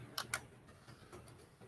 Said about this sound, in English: I'm typing at the same time.